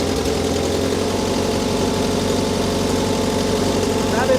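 The fuel-injected engine of a UAZ Buhanka runs steadily at idle, a constant close-up hum with an even throb and no change in pace.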